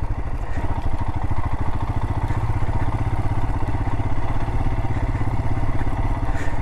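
A motorcycle engine runs continuously at a steady, throbbing pitch while riding a rough canyon jeep trail, close and loud with rattling clatter over the terrain.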